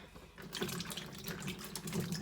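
Water poured while cooking a boiled dish outdoors, a steady close splashing stream with no talk.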